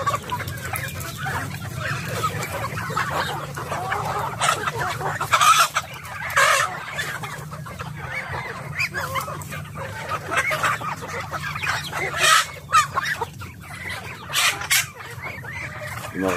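A mixed flock of turkeys, chickens and ducks at feeding time keeps up continuous clucking, squawks and chatter close by, with a busy, crowded sound and brief louder outbursts.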